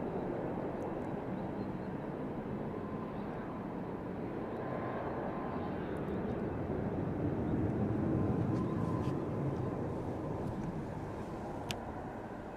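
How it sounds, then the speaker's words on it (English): A Boeing 767 taxis onto stand at East Midlands Airport, its distant jet engines a broad, steady roar that swells slightly midway, with faint clicks and ticks of activity nearby. "767 in from JFK, just pulling on to stand in the distance."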